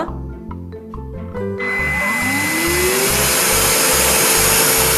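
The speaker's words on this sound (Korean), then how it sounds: "청소기 모터 소리가 그렇게 크지가 않아요" After a few clicks and a low pulsing hum, a Benheim V10 cordless vacuum cleaner motor spins up and settles into a steady, loud whine.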